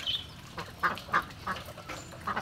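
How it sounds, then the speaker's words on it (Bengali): Ducks quack in a short series of about six soft, evenly spaced calls near a rain-flooded home courtyard, fairly faint and alone over a quiet background. "এই যে হাঁসগুলো নামতে চাইছে না"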